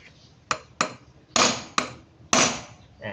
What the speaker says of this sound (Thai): ให้เราเอาค้อนเหล็กมาตีนะครับ ให้เกิดแรงสะท้อนที่ปลายเครื่องมือตัวนี้ซัดเป้งนะครับ